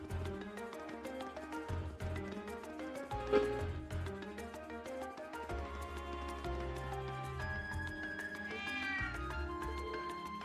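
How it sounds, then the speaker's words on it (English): A cat meows in the video game Trails of Cold Steel, a few short meows mixed into steady background game music with shifting melodic tones. "oh, there's a cat"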